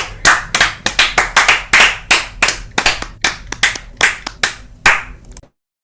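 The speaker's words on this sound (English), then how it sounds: "All right, folks, put them together for Lisa Walker." A small audience claps for a performer at a virtual open mic, with steady, fairly close hand claps lasting about five seconds before it stops abruptly.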